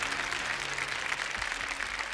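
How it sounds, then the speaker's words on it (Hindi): Studio audience on a Hindi TV game show applauding, a dense, steady burst of clapping heard up close and alone for about two seconds. "जोरदार तालियां।"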